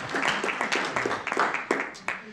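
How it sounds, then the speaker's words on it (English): A small audience at a Rotary club board election meeting gives scattered, moderately close hand clapping for retiring directors, with a few sharp individual claps over roughly two seconds. "Please give them a round of applause for their service."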